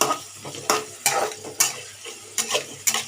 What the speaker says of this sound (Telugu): పచ్చివాసన పోయినంత వరకు కొంచెం అది బ్రౌన్గా వచ్చిన వరకు వేపాలి